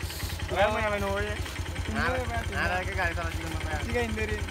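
A motorbike idles close by with a steady low, pulsing engine throb while people talk over it throughout.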